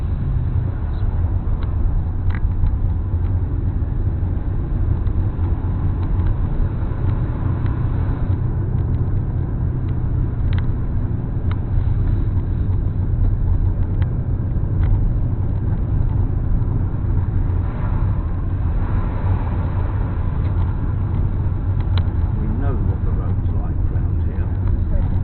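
A learner's car pulls away and drives on during a driving lesson, giving a continuous low engine and road rumble beneath occasional talk from the instructor and driver.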